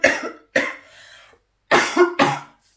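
A person with a cold coughs four times in close succession, short hoarse bursts heard up close with no other sound around them.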